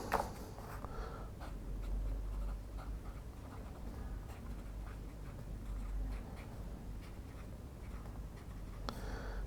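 Extra fine nib fountain pen scratching across paper, a soft continuous scrape with faint strokes and small taps, quiet and close with no talk.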